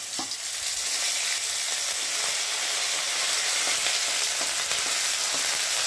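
Ginger and cumin paste sizzling in hot oil, with bay leaf and radhuni tempering in a kadai: a dense, steady crackling hiss that runs continuously with occasional stirring scrapes.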